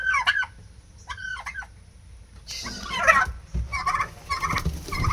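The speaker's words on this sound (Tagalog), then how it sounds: "Ayan yung pabo." Turkeys one and two months old gobbling in short rattling bursts, a couple of calls at first, then a louder overlapping flurry of gobbles and clucks nearby.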